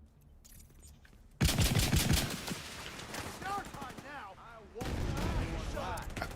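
Heavy weapon fire in a video game, erupting in a loud, dense, continuous barrage of blasts and impacts, with a voice talking through the din.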